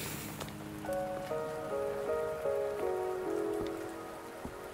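Rain falling in a video game, a soft steady patter of drops on surfaces, fairly quiet and continuous, with faint tonal game sounds rising over it partway through.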